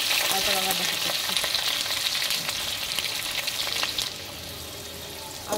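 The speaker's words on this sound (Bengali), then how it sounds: "আলুটা ভাজি, তারপর আবার দেখা করছি।" Potatoes frying in a pan for a chicken dish, a dense hissing sizzle that runs loud and steady, easing a little toward the end, with no talking over it.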